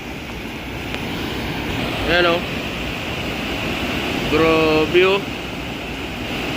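Floodwater rushes out of a newly opened outlet at a flood-control project, a steady broadband roar like surf and wind that runs the whole time, with someone speaking briefly over it.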